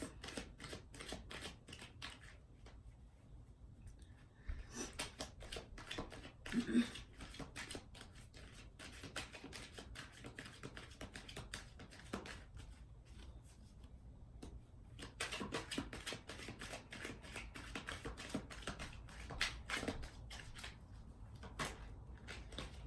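Tarot cards shuffled by hand for a reading, giving quiet, repeated crisp flicks and soft taps in uneven bursts over a hushed room, with no talking.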